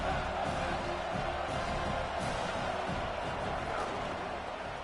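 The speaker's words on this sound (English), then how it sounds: "This Auburn crowd trying to conjure up a little magic here on 3rd down." A steady, distant roar of an Auburn stadium crowd in an NCAA college football video game, a continuous wash of cheering with faint whoops, no sharp peaks, sustained for several seconds.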